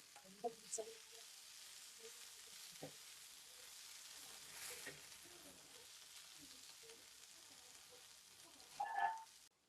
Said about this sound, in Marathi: आणि पहिला ह्या सगळ्या भाज्या सॉटे करून घेऊया.